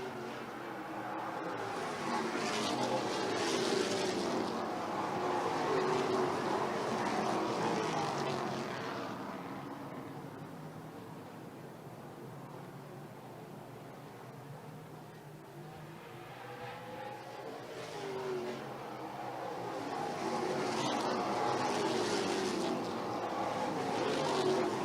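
NASCAR Pinty's Series race cars at Autodrome Saint-Eustache roar past in swelling waves, the engine noise building, fading to a distant drone mid-way, then surging loud again as the pack returns.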